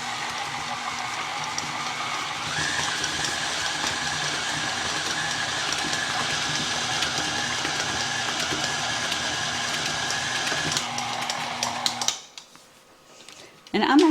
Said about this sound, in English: I'm actually using the paddle